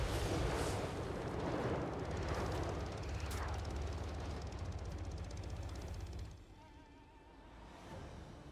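A defensive tower fires on units during a Total War Warhammer III battle: a dense, loud wall of cannon-like booms and crackling gunfire rolls on without pause, then abruptly thins to a quieter rumble after about six seconds.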